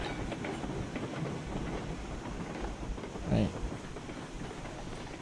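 A train runs steadily in the game Railroads Online, a continuous rumbling roll with rhythmic clatter and a brief louder thump midway, with a short spoken word over it.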